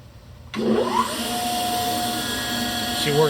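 The workhead of a Cincinnati No. 2 tool and cutter grinder starts up and runs with a steady, smooth motor whine that has a rising tone at start-up, close and fairly loud, with quiet-running bearings and no talk.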